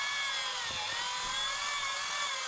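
A small drill bit boring holes gives a continuous high whining motor drone, steady and fairly close throughout, with faint low bumps underneath.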